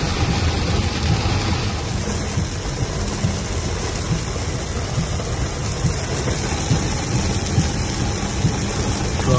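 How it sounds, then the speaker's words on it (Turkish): Very heavy rain on a highway roars steadily and densely, a loud unbroken wash of noise with low rumbling underneath and no voices. "Şu anda gerçekten de çok şiddetli bir yağmur var."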